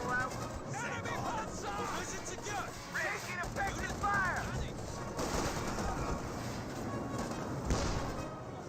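Gunfire in Company of Heroes 2, steady rattling small-arms and machine-gun bursts mixed with battle noise and shouted voices throughout, dense and continuous at moderate level.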